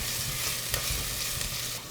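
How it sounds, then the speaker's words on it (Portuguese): Garlic frying in olive oil in a pan, a steady close sizzle with soft crackle and a couple of faint clicks, no voices. "Aqui na panela eu vou colocar um pouco de azeite, o alho. Vou deixar dar uma pequena dourada."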